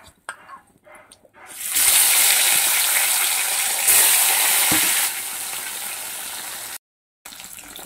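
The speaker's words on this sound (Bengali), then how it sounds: "তো বাকি মাছগুলো আমি ভেজে নেব।" Fish pieces fry lightly in hot oil in a home kitchen, giving a loud, steady sizzle that starts after a few seconds of handling noise, fades somewhat, then cuts out briefly near the end.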